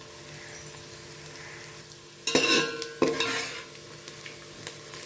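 Onion and peanuts sautéing in a pan for a summer puffed-rice bhel, with a steady sizzle and several sharp scraping stirs of a spoon against the pan, loudest near the middle of the stretch.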